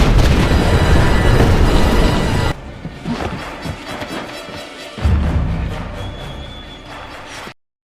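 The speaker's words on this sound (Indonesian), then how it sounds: "sebuah gedung putih yang tiba-tiba hancur oleh ledakan" A loud, roaring blast of a white building being destroyed in a film rumbles heavily, then drops to a lower crackling rumble before a second surge swells and cuts off abruptly.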